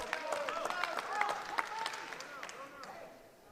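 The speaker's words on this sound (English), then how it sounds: "the Michigan applause from the bench gave it away" Faint scattered clapping from a team bench at a college wrestling meet between Michigan and Northwestern, brief claps under a commentator's voice, quiet and distant.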